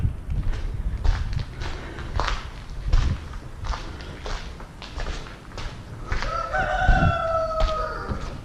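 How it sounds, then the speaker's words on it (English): A rooster crows close by on a building site, one drawn-out call near the end, after scattered clattering and shuffling steps over a noisy background. "Turns out they have a defense rooster here."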